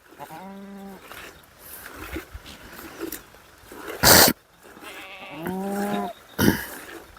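A Kathiyawadi goat bleats twice, close by, with sharp hissing bursts between the calls like milk squirting into a pail as it is milked by hand.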